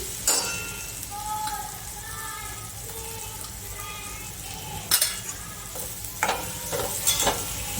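Coriander-cumin powder masala with garlic chutney roasting in oil for a Kathiyawadi panchratna dal, a soft steady sizzle with a few sharp spoon-on-pot clinks and scraping stirs, close by.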